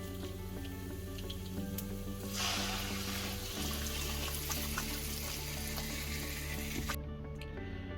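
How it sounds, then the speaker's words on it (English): Dal boils in a pot with a steady bubbling, sizzling simmer, continuous and close, with a brief louder surge of hissing partway through. "our dal has come to a nice boil"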